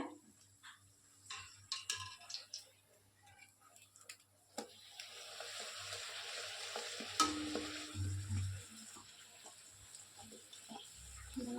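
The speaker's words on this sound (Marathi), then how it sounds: "पुरी मस्त भाजल्या दोन्हीकडनं बी, छान तळल्या" Puris deep-frying in hot oil, a faint, steady sizzle that grows denser midway, with occasional clinks and stirring sounds and no talk.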